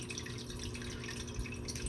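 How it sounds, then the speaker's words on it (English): A fish tank filter runs quietly, with water trickling and dripping in a soft, continuous babble and occasional brighter drops, heard faintly and alone. "The water that you hear in the background is a fish tank filter."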